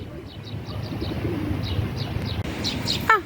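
Pigeons coo softly in repeated short phrases near a bird feeder outdoors, with a few chirps and a brief flutter at the end over steady background noise.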